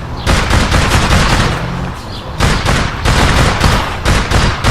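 Gunfire in the online shooter game APB Reloaded, loud rapid bursts of automatic shots in close succession with a brief lull partway through.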